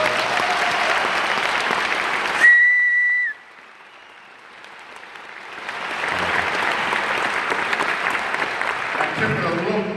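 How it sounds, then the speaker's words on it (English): Audience applause after an all-state performance of a Verdi overture, a dense burst of clapping cut by a sharp whistle, then a pause before the clapping swells again. "would you give them a nice round of applause?"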